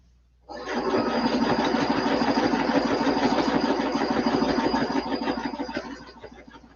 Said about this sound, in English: I'm going to stitch just a couple of stitches